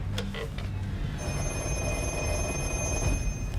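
A 1970s black telephone rings through a Viking ringing system on a film set, its bell trilling in repeated bursts over a constant high electronic tone and background hum, fairly close.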